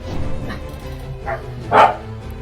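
A single dog bark stands out near the end, with a fainter yip or two earlier, from dogs fighting outside, all over a steady low background hum.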